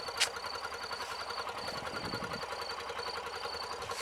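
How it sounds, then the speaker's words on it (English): Dirt bikes idling on an Albanian dirt track as they warm up, a steady, continuous engine drone holding at a constant level throughout with no voices. "We're warming the bikes up"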